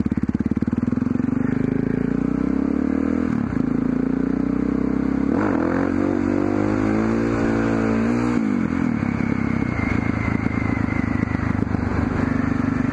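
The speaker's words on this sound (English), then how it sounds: "The revs are still climbing." An engine revs hard and holds high, the pitch climbing and dipping in surges with a rattling, buzzing tone close by.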